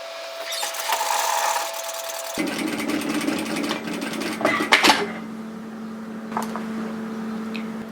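Sewing machine stitching a sweater collar with a 6mm seam, a steady mechanical whirring run with a constant hum, close by, changing pitch partway and ending with a few clicks and taps.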